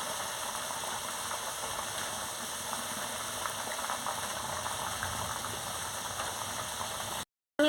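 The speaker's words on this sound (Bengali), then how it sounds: "বন্ধুরা, কেমন ফুটছে টকবক করে।" Hilsa fish curry broth with salted water and potatoes boils steadily in a pot, a continuous bubbling hiss that holds evenly for several seconds before cutting off abruptly near the end.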